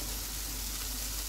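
Masala for bhindi chicken fries in oil, giving a loud, continuous, close sizzle with no break.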